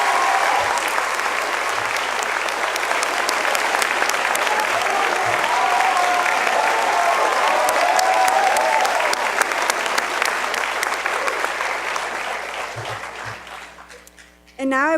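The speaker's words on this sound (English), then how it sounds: "let's give a big round of applause to the first ever MSITM cohort" Sustained, loud applause from a large audience fills a university business school master's commencement ceremony, steady clapping for nearly the whole stretch before tapering off near the end.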